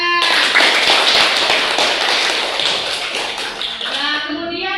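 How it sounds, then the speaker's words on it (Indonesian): A class of children clapping their hands in a classroom lesson, a loud, close burst of dense rapid claps with children's voices over it, tapering off near the end. "Semuanya tepuk tangan."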